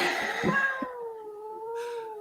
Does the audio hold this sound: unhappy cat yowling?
yes